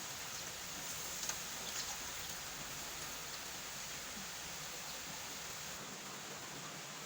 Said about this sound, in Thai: เสียงฝนตกดิน